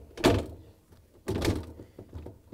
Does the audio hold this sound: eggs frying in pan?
no